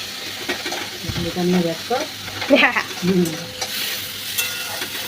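Green chilies tipped into a pan of frying mushrooms and stirred, a loud close sizzle with scraping stirs while people talk over it.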